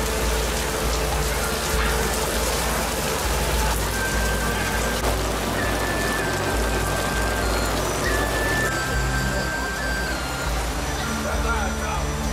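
Heavy rain falling in a town in Guizhou, China, a dense continuous patter over the whole stretch, with traffic rumble, occasional vehicle beeps and people talking beneath it.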